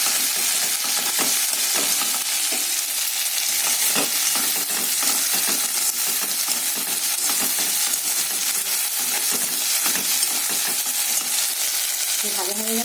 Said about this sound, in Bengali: সর্ষে পোস্তটা বেশি ভাজবো না, সামান্য একটু ভাজবো।